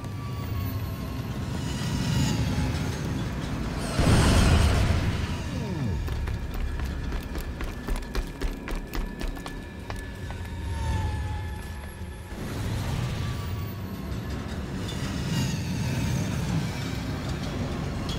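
Trains rumbling past in the Killzone Shadow Fall video game, heavy low roars swelling and fading in waves, with clattering rail rhythm in between and faint game sounds around them.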